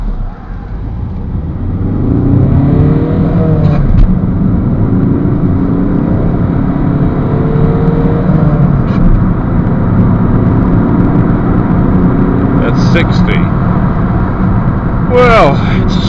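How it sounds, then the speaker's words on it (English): A 2011 Alfa Romeo Giulietta 1.6 diesel hatchback accelerates hard from a standstill, its engine note climbing through rising gear pulls over steady road and wind noise, with someone talking throughout. "I'm just going to do a brief 0 to 60 test to just give you an idea what this car goes like."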